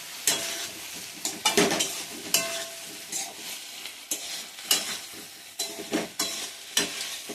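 Raw banana manchurian is stirred and fried in a pan, with an ongoing sizzle broken by repeated scraping strokes of a spoon against the metal, close and fairly loud with no talking.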